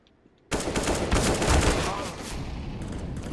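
Gunfire in Counter-Strike: Global Offensive erupts suddenly after a short quiet, a loud rapid burst of shots that rattles on and then tails into sustained combat noise.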